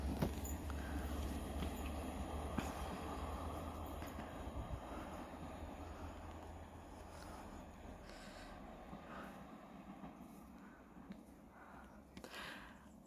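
A train rumbles through Greenisland station in Northern Ireland with a low continuous drone and faint wheel squeal, heard from a distance at low level with no talking.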